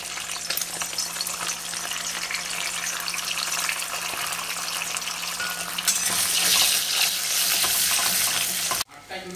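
Egg sizzles in refined oil in a wok for egg prawn fried rice, a loud, dense frying hiss that swells brighter partway through and cuts off abruptly near the end, close up with no talk.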